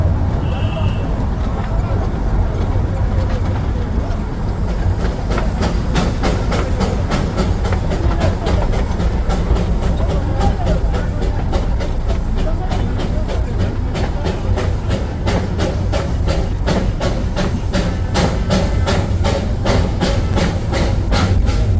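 The Darjeeling toy train rolls along narrow-gauge rails on a joy ride near Darjeeling station. It makes a loud, continuous rumble, and rhythmic wheel clicks grow steadier and denser as the run goes on.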